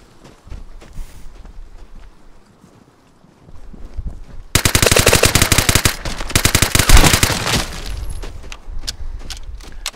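Rapid automatic gunfire rattles in the post-apocalyptic shooter game Vigor, a loud, close burst lasting several seconds after quieter scattered shots and movement, then trailing off into softer background noise.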